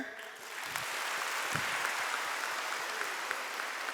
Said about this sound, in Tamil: அது ஏற்றுக்கிறீங்கன்னா எல்லாருக்கும் கை கைதட்டுங்க